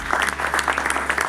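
Brief burst of theatre audience applause at a theatre festival in Kurukshetra, Haryana, quick rhythmic clapping of moderate loudness over a steady low hum.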